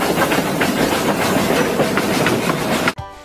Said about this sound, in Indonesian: Lihat teman-teman, ada kereta lokomotif.